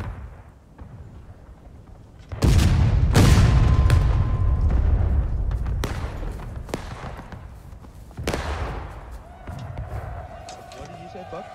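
A cannon in the War of Rights video game fires with a heavy boom, followed by rumbling and further sharp impacts and bangs, while players talk over the action.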